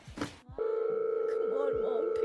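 A telephone line tone rings steadily while a call is placed, a continuous loud tone starting after a brief burst of voice and running alone to the end.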